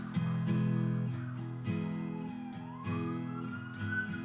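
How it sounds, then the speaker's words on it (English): An emergency vehicle siren blares from outside, a loud repeating wail with stepped tones that sweeps up and down over several seconds without any voices. "Dude, we get it, you're there. I think there must be some kind of policy that dictates that they have to, like, blare sirens."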